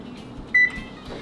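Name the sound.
oven being turned on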